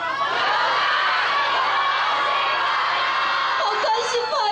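A large crowd of fans cheers and shouts continuously at a Taiwan brand endorsement appearance by SNSD's Yoona, a dense, loud roar of high voices and whoops with no pauses.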